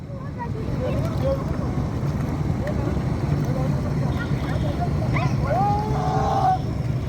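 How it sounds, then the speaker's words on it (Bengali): A large passenger river launch draws very close, its engine a deep, constant rumble with a few horn-like tones near the end, while people shout and talk nearby. "এই যে লঞ্চটা আসতেছে খুব কাছাকাছি খুবই কাছাকাছি"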